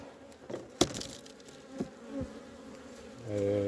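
Honeybees buzz around a hive while a small swarm is being strengthened with brood frames, a steady insect drone broken by a few sharp knocks and wooden thuds, with a rising hum near the end.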